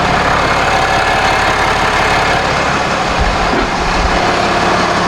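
A 2019 Ram 2500 with the 6.7 Cummins diesel idles loud and close after an oil change, a steady low rumbling drone throughout with a brief deeper thump midway; no talking.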